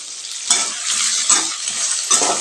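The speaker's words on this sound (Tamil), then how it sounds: "இது நல்லா வதக்கி விட்டுக்கலாம்" Ridge gourd, tomato and garlic frying in a pan with a loud, close, continuous sizzle, broken by a few sharper stirring scrapes.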